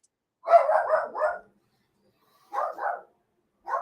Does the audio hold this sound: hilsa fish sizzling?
no